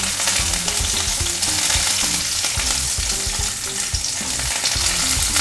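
Star anise and a cinnamon stick sautéing over low heat in a pan, a steady close sizzle with a continuous hiss and frequent scraping stirs throughout, no voices.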